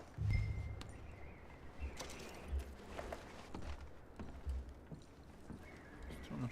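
Horses walking in the Western game Red Dead Redemption 2, soft irregular hoof clops on the ground with a few thuds and creaks, quiet and fairly close, with no voices.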